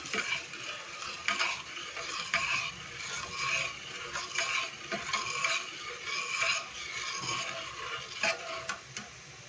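Roasted rice flour mixture being stirred in a pan, a steady gritty scraping in repeated strokes with soft sizzling underneath, fairly close and moderately loud, no voices.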